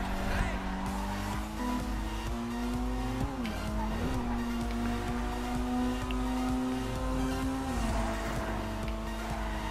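A Maxwell Asbo car in GTA 5 Online drives with a steady engine drone that rises and dips through gear changes, brief tire squeals breaking in, while people talk over it.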